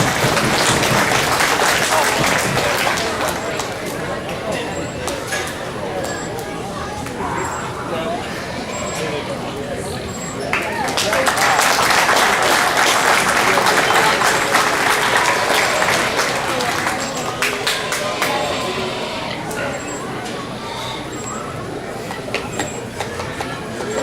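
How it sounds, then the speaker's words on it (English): A fair audience at a junior market hog show applauds the young exhibitors, sustained clapping that swells and fades over crowd chatter and an announcer's voice. "Give them a round of applause"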